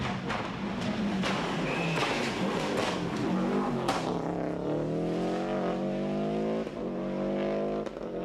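A rally car at the 1995 Lurgan Park Rally, on a course of tarmac and loose-surfaced roads: a revving engine rising and falling through gears with a brief tyre squeal, sustained and fairly close.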